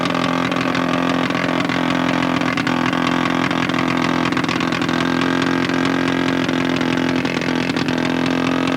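A giant scale model airplane engine at a 1989 model meet in La Ferté-Alais runs at open throttle while taxiing, a loud, steady high-revving drone that holds nearly constant throughout without pauses.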